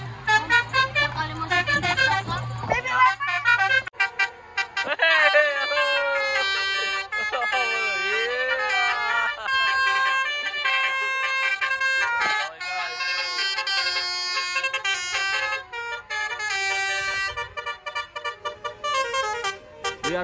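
Dozens of telolet horns on buses and cars honk at a crowded gathering in Wayang Windu, Pangalengan, playing loud, continuous melodic tooting tunes that overlap and shift pitch, with brief gaps and a crowd murmuring beneath.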